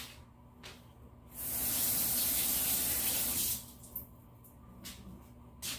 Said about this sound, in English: I just had to rinse my hands